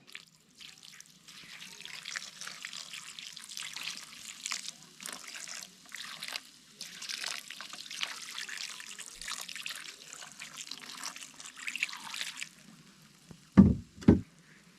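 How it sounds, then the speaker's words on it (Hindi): Water poured into soil in a steel tray outdoors in an Uttarakhand mountain village, a steady splashing trickle lasting most of the span, followed near the end by a couple of sharp metallic knocks. "और अब इस मिट्टी में डाल देंगे पानी।"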